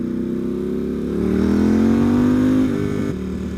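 A Ducati SuperSport S with its 937 engine revs loudly up close, its steady exhaust note climbing in pitch and holding before dropping back to a lower idle.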